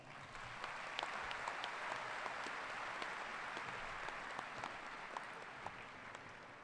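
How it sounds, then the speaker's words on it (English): Audience at the 2017 Raytown High School graduation ceremony claps continuously, a fairly faint, distant-sounding wash of applause with scattered sharper individual claps. "Please give them a round of applause."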